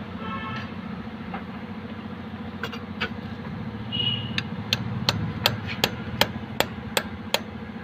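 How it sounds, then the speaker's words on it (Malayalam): Hammer blows drive candle wax into a car's pilot bearing bore to push the bearing out: a steady run of about a dozen sharp metallic strikes, speeding up over time, over a low engine-like hum in a workshop. "നമ്മൾ അടിച്ചു കയറ്റുന്ന മെഴുകുതിരി സൈഡിൽ കൂടെ തള്ളാൻ നോക്കുമ്പോഴാണ് ഈ ബെയറിംഗ് വെളിയിലോട്ട് ഇറങ്ങുന്നത്"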